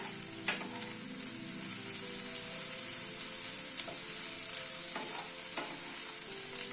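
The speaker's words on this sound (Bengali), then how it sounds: "ক্যাপসিকামটা দিয়ে একটু হালকা ফ্রাই করে নেব।" Capsicum strips and garlic-seasoned vegetables frying lightly in a pan, a constant bright sizzle with a few sharp clinks and scrapes of stirring, close and steady with no talking.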